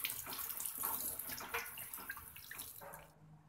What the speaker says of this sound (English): the first thing I do is to wash it in detergent, soap and water